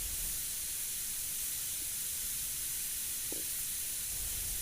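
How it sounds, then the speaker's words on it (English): Continuous close hiss of an airbrush laying yellow paint between the teeth of a Killer Klown mask, constant in level throughout with no voices. "I like airbrushing the yellow a little heavier in between the teeth and right in the corners where the teeth meet the gums."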